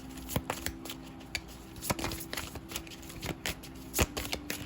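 Tarot cards being shuffled for a reading, a steady run of crisp riffling flicks and soft slaps at close range, with sharper card snaps landing every second or so and no voices.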